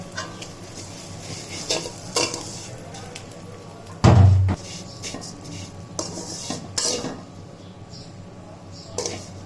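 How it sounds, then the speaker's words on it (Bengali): Roasted vermicelli tipped into a pan of ghee-fried cashews, almonds, pistachios and dates, then stirred, giving close scraping and clinking against the pan with a louder clatter midway, under a faint sizzle and no speech. "এরপর আমি ভাজা সেমাইটা বাদামে দিয়ে দিলাম"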